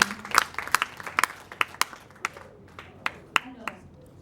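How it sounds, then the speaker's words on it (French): A small conference audience gives scattered, uneven applause, individual claps standing out sharply and thinning toward the end, with a voice faintly present underneath at the start. "Alors applaudissez pour vous-même pour être présents ici."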